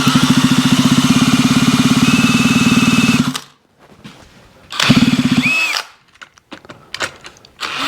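A power drill whirs loudly to turn over the crank of a Yamaha RD125 twin engine for a spark check, running two bursts separated by a pause, then stopping with faint clicks and handling noises.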